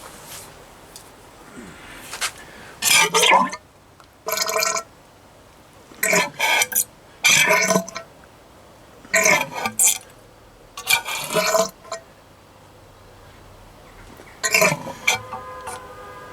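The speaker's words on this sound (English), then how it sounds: "Give that a couple of pumps and let it drain out properly." Motorcycle fork oil, old and dirty, drains out of a fork leg after a couple of pumps, heard as short gurgling, sputtering bursts spaced with quiet gaps, close by and fairly clear.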